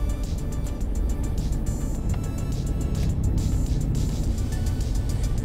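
Steady road traffic rumbles near the BGC-Ortigas bridge project construction site, a continuous broadband wash of car engines and passing vehicles with no clear gaps, moderately loud throughout.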